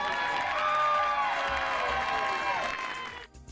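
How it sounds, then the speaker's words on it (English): A crowd at a send-off for high school football players claps and cheers, a dense, steady wash of applause with scattered whoops and shouts that holds strong, then thins and fades out near the end. "Round of applause for the young men."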